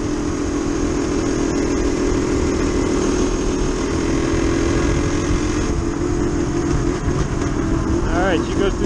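A Yamaha DT360 motorcycle engine runs steadily through its gears on a ride through the woods, a loud continuous drone close to the listener, with the pitch shifting near the end.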